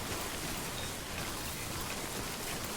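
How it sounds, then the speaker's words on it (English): Steady rain hisses down evenly and close in the video game Death Stranding, a dense broadband wash of timefall with no talk over it. "It's starting to rain, starting to time fall all over the place."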